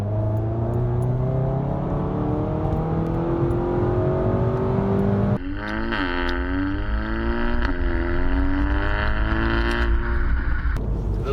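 VW GTI MK7 running a stage 2 ECU tune, heard from inside on a test drive, engine pulling steadily with rising harmonic sweeps, a sharp change around the fifth second as it shifts and pulls again, under continuous road noise.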